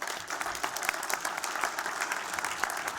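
An audience at a closing plenary conference session gives steady, dense applause as a dean is welcomed to the stage. The clapping is loud and continuous throughout, with no talk over it.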